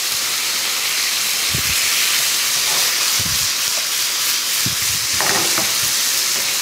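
Flour toasts in a pan for a béchamel sauce, giving a constant bright sizzling hiss, with a few soft scraping stirs and low knocks spread through it.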